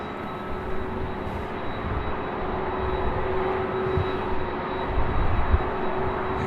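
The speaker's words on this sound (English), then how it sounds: "You can definitely hear that 767." A Boeing 767 airliner at LAX, its engines giving a broad, continuous roar that swells slightly toward the end, heard from a moderate distance with no talking.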